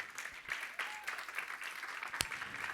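A church congregation claps during a sermon, a modest, fairly distant patter of hands that continues unevenly throughout, with a sharper clap standing out near the end.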